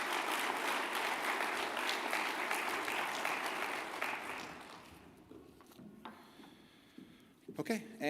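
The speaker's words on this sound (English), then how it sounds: "let's give them a round of applause" Audience applause for award-winning secondary school students at a 2020 awards ceremony, steady dense clapping for about five seconds that thins out and fades, followed by scattered handling noises and quieter room sounds.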